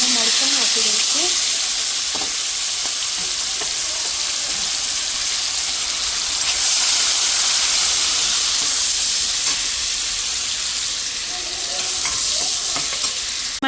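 Chopped tomatoes hit hot oil seasoned with ajwain, turmeric and a pinch of asafoetida, giving a loud, steady, close sizzle with occasional stirring scrapes throughout.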